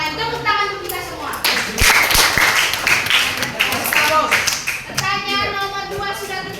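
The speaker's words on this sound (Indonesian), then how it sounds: "Tepuk tangan untuk kita semua." Students in a classroom clap together in a burst of rhythmic hand claps that builds to a loud peak and then trails off, with children's voices chattering underneath before and after.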